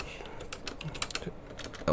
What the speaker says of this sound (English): So to shred it, type in shred.